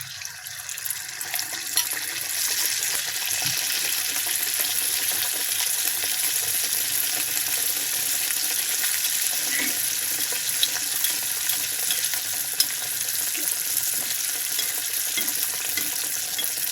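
Egg pitha, a Barishal-style sweet dipped in batter, sizzles steadily in hot oil, a dense continuous crackle with occasional louder pops and no talking.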